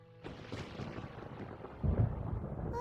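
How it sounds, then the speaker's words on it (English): Thunder rolls in Genshin Impact, a low rumble that swells into a heavier crack partway through, with rain-like hiss spread across it. "Paimon hears thunder!"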